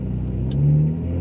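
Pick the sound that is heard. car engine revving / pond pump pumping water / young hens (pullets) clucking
car engine revving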